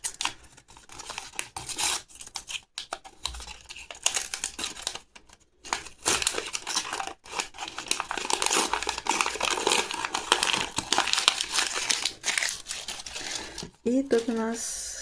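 Close, persistent crinkling and rustling of a paper surprise packet being handled and torn open, in irregular bursts with brief pauses, a voice briefly near the end.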